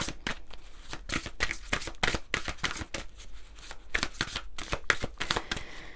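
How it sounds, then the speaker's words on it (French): Oracle cards from the Lumière de Fée deck being shuffled by hand in a steady run of quick, crisp riffles and slaps, close and fairly loud, with no talk over it. "On va prendre quelques cartes de l'oracle Lumière de Fée"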